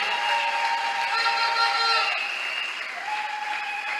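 Applause from a church congregation, a steady close wash of clapping that thins slightly toward the end, with a sustained organ or keyboard tone underneath.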